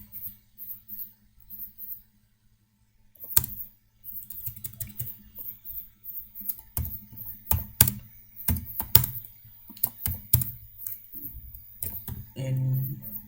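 Fingers typing a question on a computer keyboard, bursts of quick clicking keystrokes after a quiet pause, close and clear with no talking.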